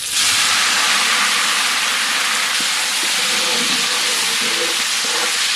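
Cinnamon, fennel seeds and curry leaves fry in hot oil for an egg gravy, giving a loud, steady, broadband sizzle with faint crackles throughout and no talking.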